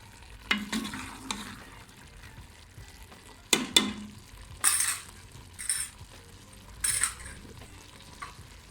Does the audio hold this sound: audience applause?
no